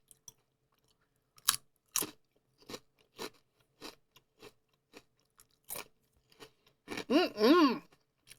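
Close, dry crunches of prosciutto-flavoured potato chips being bitten and chewed, scattered single crunches in an irregular rhythm against near silence, ending with a short hummed sound of enjoyment.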